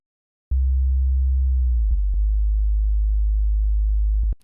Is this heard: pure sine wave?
yes